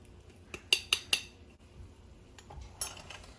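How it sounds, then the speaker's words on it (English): Dry spaghetti thrown into an Instant Pot makes several sharp, bright clinks and rattles, quick hits close together, followed by a softer scattering rattle. "To save time and not have to use the measuring cup, we're going to throw the pasta in."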